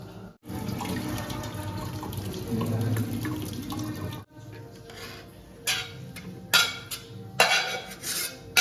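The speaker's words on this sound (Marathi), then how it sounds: "ते आता आपण पाणी गाळून घेणार आहोत" Water is strained steadily from boiled wild greens for several seconds, then stops, followed by clinking and clattering of pots and utensils nearby.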